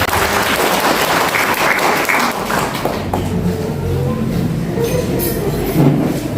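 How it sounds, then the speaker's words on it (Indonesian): A church congregation claps for the women's worship team at a joint service, dense loud applause that thins and fades toward the end, with a few scattered voices mixed in. "Tepuk tangan dong untuk mereka."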